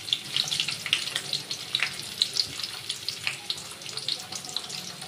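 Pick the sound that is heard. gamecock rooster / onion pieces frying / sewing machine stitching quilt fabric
onion pieces frying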